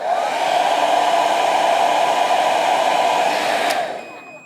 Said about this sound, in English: So this is a hairdryer. This is